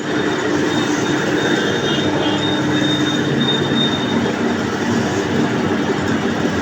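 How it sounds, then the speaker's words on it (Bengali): A lathe machine in a workshop runs continuously with a loud, dense mechanical roar and a faint high whine, steady throughout with no talk. "এই যে ভাই, লেদ মেশিন চলতেছে।"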